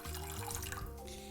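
Water runs steadily into a thick-bottomed saucepan, filling a shallow layer for a bain-marie, a continuous close pouring rush with no talk.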